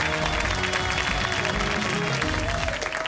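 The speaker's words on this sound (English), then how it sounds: "Let's have a round of applause for both teams." A high school quiz show audience gives both teams a brief, even round of applause, with faint background tones under the clapping.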